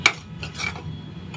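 A spatula scrapes and stirs semolina roasting in ghee in a pan, sweet sheera in the making, with a sharp clink at the start followed by soft intermittent scraping strokes up close.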